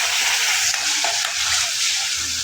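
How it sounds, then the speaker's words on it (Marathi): Yogurt sizzles steadily in a hot pan while being stirred for paneer butter masala, a loud continuous frying hiss with soft scraping under it. "दही पण छान आपण त्यात परतून घेऊया।"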